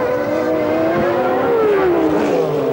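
Formula 1 race cars from the 1994 season, led by Senna and Schumacher, roar past with a steady high engine whine that falls in pitch as they pull away, loud and continuous with no talk.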